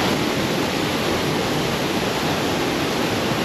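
A waterfall in the Portuguese countryside pours in a constant, loud roar of rushing water, heard up close with no voices over it.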